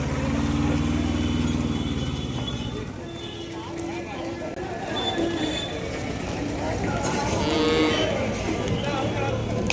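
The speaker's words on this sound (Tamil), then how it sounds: "எல்லா மாடுகளுமே உள்ளே வந்துடுது." Cattle at a rural livestock market: a loud, long moo at the start, then faint lowing and animal movement under nearby people talking in a busy outdoor crowd.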